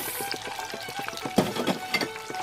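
Chicken fries in a pan in an 18th-century style, a steady crackling sizzle with scattered sharper pops, close and alone.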